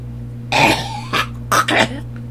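A few harsh coughs up close during a phone call, in two short bursts with a brief pause between, over a steady low hum.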